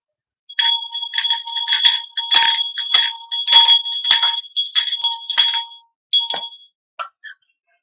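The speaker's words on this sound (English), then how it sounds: "We're about to clear the energy here with the bell." A small bell rung to clear energy chimes in a rapid series of bright, ringing strikes, close and loud, for about five seconds, then a few last isolated dings as it trails off.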